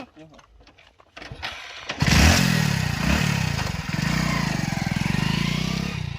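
A motorcycle engine starts up and runs at a loud, steady idle with a rapid low throb, following a short stretch of quieter rustling.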